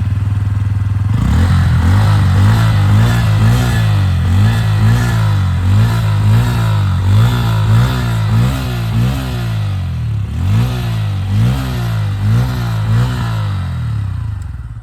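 A fuel-injected motorcycle with ABS idles loudly and close, its engine revved repeatedly in a steady pulsing rhythm, with a brief dip before the revving resumes; no one speaks.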